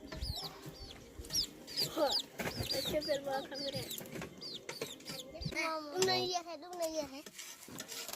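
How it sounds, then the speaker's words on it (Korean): Chicks and fowl cluck and peep in short, repeated calls close by, mixed with people talking in the background. "아, 이거 병아리들 벌써 많이 컸구나."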